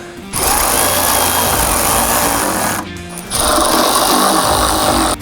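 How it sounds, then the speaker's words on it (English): A power tool runs in two sustained bursts, buzzing loudly and close up while it tightens size 13 bolts on a 2023 Ford Super Duty during LED hood light installation, with a short pause between them. "we'll be able to go ahead and retighten these 2 size 13"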